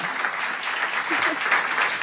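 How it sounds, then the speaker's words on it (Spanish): A crowd applauds warmly at a Spanish Language Day celebration, a thick, unbroken wash of clapping that holds at an even level for the whole moment. "Démosle un fuerte aplauso también a ella."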